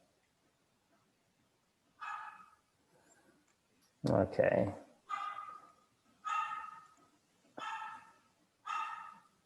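A dog barks in the background in a series of about six sharp, evenly spaced barks with one louder burst near the middle, and a voice speaks briefly.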